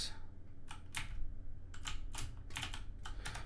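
Keys clatter on a computer keyboard in several short quick bursts, faint and close, over a low steady hum.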